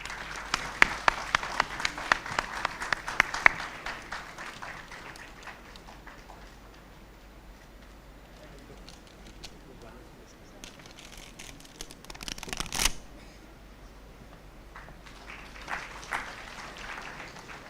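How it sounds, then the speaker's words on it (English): An audience claps at a conference after a memento is presented, with brisk, dense applause at first that fades to scattered claps and then a short burst. Speech is heard near the end. "A round of applause for sir."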